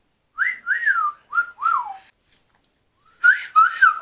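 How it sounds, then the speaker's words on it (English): Someone whistles a series of short sliding notes, four in quick succession, then a pause and a few more warbling tones. "Can you whistle?"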